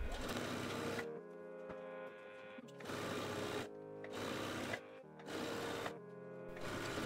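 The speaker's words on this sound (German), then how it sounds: "Und ansonsten nähe ich jetzt hier einfach einmal komplett runter." A sewing machine stitches a seam on a mini dress with a waterfall neckline, running in several loud, steady bursts of whirring with short pauses between them.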